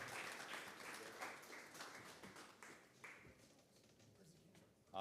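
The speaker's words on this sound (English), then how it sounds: "All right, let's give everybody a round of applause." Crowd applause at a newcomer night gathering, a dense patter of clapping that gradually thins out and fades, with faint voices mixed in.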